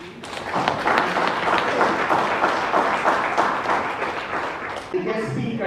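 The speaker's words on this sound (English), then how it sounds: "I would like to give them a round of applause" An audience at a maritime women's association regional conference breaks into applause, a dense, steady wash of clapping that thins out toward the end as a voice starts speaking.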